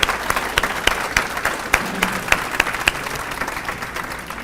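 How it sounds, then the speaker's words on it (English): Audience applause at a township State of the Township gathering, a steady dense wash of many hands clapping with a few sharper claps standing out, moderately loud and continuous throughout. "Applaud that."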